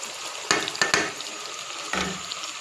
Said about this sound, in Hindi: अब थोड़ा सा हमने फ्राई कर लिया चिकन को